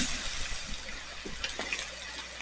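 Water pours steadily into a large jambalaya pot, a continuous rushing gush with small splashes, close and fairly loud, no talking.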